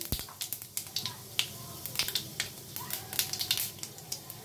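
Panch phoron seeds and a broken dry red chilli frying in hot white oil, giving close, quiet, irregular crackles and pops over a soft sizzle, with no talk.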